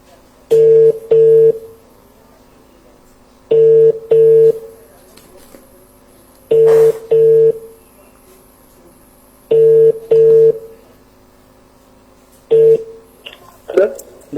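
A telephone ringback tone repeats in paired double bursts roughly every three seconds, loud and clear over a quiet line, with a brief voice or noise near the end.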